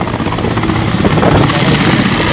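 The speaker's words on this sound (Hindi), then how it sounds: "एयरफोर्स का हेलीकॉप्टर इन लोगों को बचाने के लिए पहुंचा।" An Air Force rescue helicopter hovers over the flooded Betwa river, its rotor chopping loud and close in a continuous, steady thrum with engine whine and wind noise throughout.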